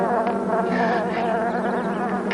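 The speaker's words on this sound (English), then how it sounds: "The bees are all over the car." A swarm of bees buzzes around a car in a dense, steady, loud drone that stays close and continuous throughout.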